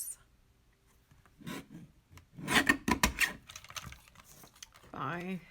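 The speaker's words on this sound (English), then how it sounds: "I'm going to use my new little trimmer" Small paper trimmer cutting cardstock for a handmade ladybug birthday card: quiet scraping slides and rubbing strokes of the blade in short bursts, close by, with a brief voice near the end.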